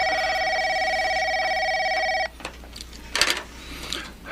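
A telephone bell rings steadily and loudly for about two seconds, then cuts off abruptly, leaving faint rustling and handling noises behind it.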